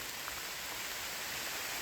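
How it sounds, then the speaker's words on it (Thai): Steady rain falling outdoors at a bamboo-shoot foraging spot, a dense even hiss throughout, faint and constant with no talking. "โอ้ ฝนตกส่งท้ายด้วยครับ"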